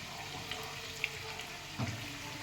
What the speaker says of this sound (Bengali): এবারে আমি এগুলোকে উল্টে পাল্টে ভেজে নেব।